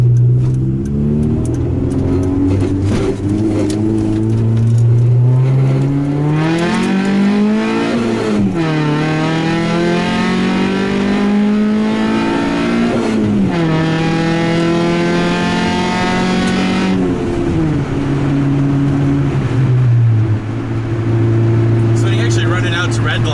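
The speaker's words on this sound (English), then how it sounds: "you can just kind of hear how ridiculous this exhaust is all the way at redline" A car's loud exhaust roars close up as the engine revs repeatedly toward redline on a highway, pitch climbing and dropping through several gear pulls over about twenty seconds, with no talking.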